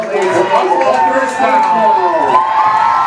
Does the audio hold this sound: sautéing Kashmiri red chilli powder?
no